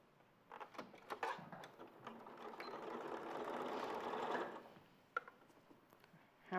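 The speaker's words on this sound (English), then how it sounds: "So it just stitches straight across" Sewing machine stitching straight across the top of a knitted toe piece, a steady mechanical whir building over a few seconds, moderately close, with small clicks and handling noise before and after.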